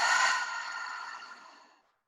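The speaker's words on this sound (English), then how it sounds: "Take another deep inhale through the nose. And exhale out of the mouth." A long, deep breath pushed out through the mouth during a guided relaxation, a breathy rush that starts strong and fades steadily over about two seconds, close and alone with no talking.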